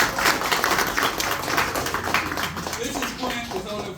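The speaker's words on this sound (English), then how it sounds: "So let's go ahead and give them a round of applause." Audience applause at a Heritage Day 2024 event for honorees, a dense continuous clapping wash with voices talking over it.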